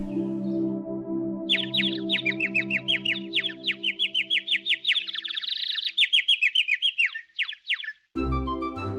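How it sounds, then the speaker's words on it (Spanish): A songbird sings a long, rapid run of bright chirps and trills, loud and close, over a sustained musical background that ends with a brief low note. "El pájaro cantaba con su hermosa voz para ellos."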